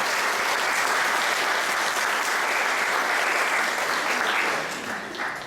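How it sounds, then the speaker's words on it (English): Audience applause after students sing for seniors at a 2017 school event, loud sustained clapping from a large crowd that fades slightly near the end. "Let's give a wonderful round of applause."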